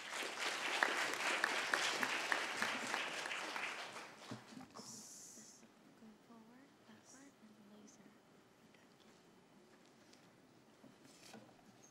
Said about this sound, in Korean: 그래서 수안디 연사를 큰 박수로 맞아주시면 감사하겠습니다.